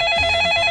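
A telephone ring sound effect in a Korean radio advertisement: a loud, steady electronic ringing tone with a fast warble, heard alone and close.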